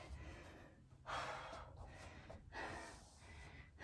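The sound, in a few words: heavy breathing during HIIT workout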